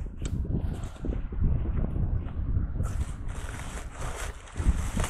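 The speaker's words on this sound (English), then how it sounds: "Wind is blowing out here," Wind blowing outdoors on a homestead with fruit trees, a continuous rough rumble buffeting the microphone with hissy gusts that rise in the second half.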